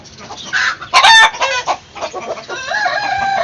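A Kairali hen clucks loudly and close by in a short burst of squawks, then settles into softer, repeated clucks.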